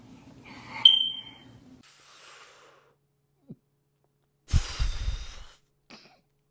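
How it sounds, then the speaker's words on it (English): A smoke detector gives a single short, high chirp indoors, followed by scattered breathy, coughing and rustling noises with brief quiet gaps. "the smoke detector beep"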